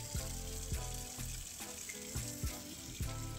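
Water rushes steadily through a Worcester CDI combination boiler's flow sensor, a continuous hissing flow with regular soft knocks and ticks repeating about every half second.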